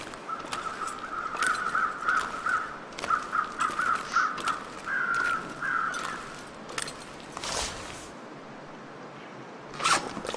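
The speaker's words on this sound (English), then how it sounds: "Nothing like watching the local crows circle a corpse on a frosty afternoon." Crows caw repeatedly in a video game set on a frosty afternoon, with a run of short rhythmic calls, a longer drawn-out caw and a few sharp clicks and rustles, all fairly close and without speech.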